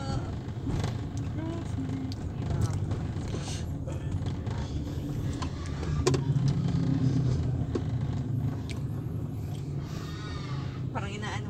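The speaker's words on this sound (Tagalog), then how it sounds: "Traffic talaga." Steady city traffic rolls along Ortigas Extension in Pasig City, with cars driving past in a continuous, moderately loud hum of engines and tire noise and no talk.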